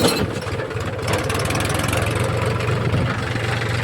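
A tractor engine idles with a steady low throbbing chug, close by and continuous, with no voices.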